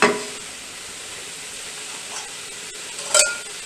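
Garlic sautéing in a pot for caldo verde soup gives a soft, steady sizzle with a faint hiss throughout, plus a brief clink of a utensil near the end.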